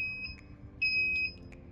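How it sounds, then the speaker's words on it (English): A high electronic alarm tone beeps in short bursts during a fuse test, with one longer, louder beep in the middle, against a quiet background. "So you can see there is an alarm"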